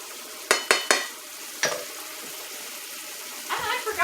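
Red wine vinegar hitting ground beef frying in a pan for stroganoff, a few sharp splashes and crackles up front, then a low steady sizzle and a brief stirring scrape near the end.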